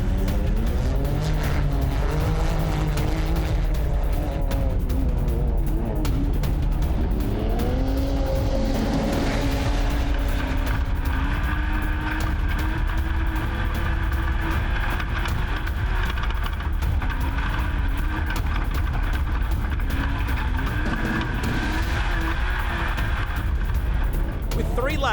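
Off-road race vehicles in the 2016 Australian Off-Road Championship roar loudly, with engines revving and changing pitch as they race, under a commentator's talk.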